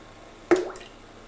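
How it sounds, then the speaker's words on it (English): A coin dropped into water gives a single short close plop with a quick bubbly splash afterward, set against near silence. "Our next scientific example is dropping the coin into the water."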